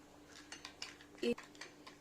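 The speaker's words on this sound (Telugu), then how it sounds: "షుగర్ వేసుకుని ఒకసారి బాగా కలిపేసుకుని" A spoon clinks and scrapes in a bowl as sugar and yeast are mixed for homemade donut dough, several light taps and one louder knock, quiet and close.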